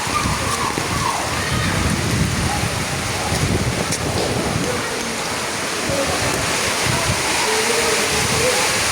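Heavy typhoon rain pours down in a steady, loud roar of water striking surfaces, with gusty wind underneath and faint voices now and then.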